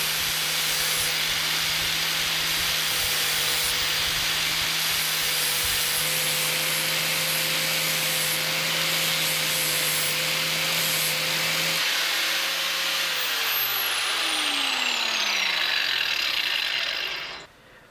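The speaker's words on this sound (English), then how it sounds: "Then we've got to get this all ground up and obviously prep it for weld." An angle grinder smooths steel tube rock sliders for a Jeep ahead of welding, giving a loud, continuous rasping whine with a steady motor hum that winds down in pitch at the end.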